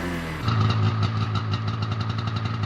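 A snowmobile engine running in snow during a rescue, a loud close motor with a steady pulsing throb that picks up after a brief lower idle.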